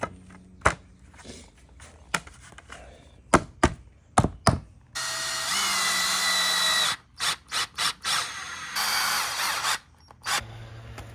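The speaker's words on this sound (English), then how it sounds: "then secured everything with some screws" A power drill drives screws into pallet wood while an outdoor sofa is built, giving sharp clicks and knocks, then a sustained loud whir of about two seconds, several short bursts, and another long run near the mic, with no talk.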